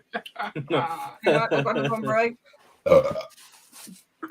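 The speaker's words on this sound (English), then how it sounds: "First belch." A single belch rises out of talk in a casual panel show, a brief, guttural burst standing out between stretches of conversation, with more chatter after it.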